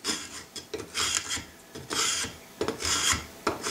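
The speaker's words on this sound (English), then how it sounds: "you can use that to just scrape the bottom cavity" A sharp bent steel scraper rasps repeatedly across the bottom of a wooden patchbox cavity on a gunstock, in rhythmic scraping strokes about twice a second, close and loud with nothing else heard.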